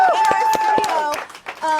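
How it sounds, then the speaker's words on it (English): A small studio audience claps in scattered, distinct hand claps, with a few people cheering and murmuring over them, close and fairly loud, tapering off toward the end. "we need a round of applause"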